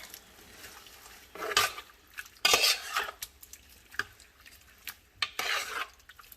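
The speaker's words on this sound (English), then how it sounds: "And stir it up here" A spoon stirs food in a cooking pot with a few scraping, clinking strokes at irregular intervals, close and fairly quiet, with no talking.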